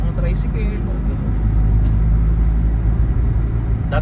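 Tricycles and other motor vehicles rumble past on a street in Tanauan, Batangas, a steady close engine drone with people talking over it.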